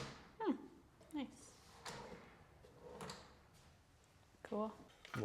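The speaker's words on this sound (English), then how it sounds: "all we gotta do is finish up the drawer slides." A wooden drawer on metal slides is pushed and pulled several times in a woodworking shop, giving short sliding rolls and soft knocks spread across five seconds, with a voice speaking quietly among them.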